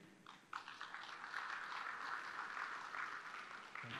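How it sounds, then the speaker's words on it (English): Audience applause at a TECNO flagship product launch event in 2022: steady, dense clapping from a crowd that swells after a brief opening and holds at an even level throughout, with no talk over it. "I want to applaud for him again"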